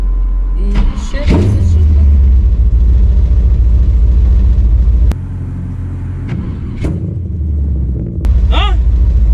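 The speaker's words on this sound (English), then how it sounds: "Hear that supercharger?" A supercharged truck engine rumbles loudly from inside the cab, a deep steady drone that swells and surges, with a few sharp clicks and knocks and voices briefly talking over it.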